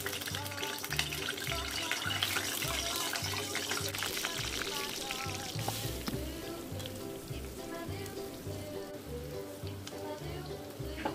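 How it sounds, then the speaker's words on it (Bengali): Steady crackling sizzle of boiled potatoes deep frying in hot oil over high flame, continuous and fairly loud throughout, with a rhythmic low thumping in the background. "এটা হাই ফ্লেমে ফ্রাই করছি, যাতে ক্রিস্প হয় একটু আলুগুলো।"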